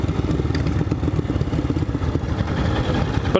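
A Royal Enfield Scram 411 motorcycle ridden on a rough, bumpy road gives a throbbing, pulsing single-cylinder thump, steady and close, with wind and road rumble mixed in.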